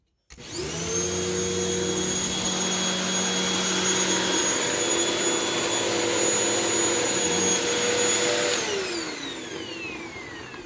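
A Hoover Windtunnel T-Series Purely Clean vacuum cleaner runs in a living room, a loud steady motor whine with a high tonal hum that holds for about eight seconds, then winds down as it is switched off.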